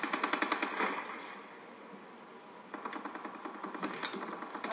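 Rapid gunfire from a powerful gun in an online shooter video game, bursts of repeated shots at the start and again near the end with a quieter gap between, with no talking.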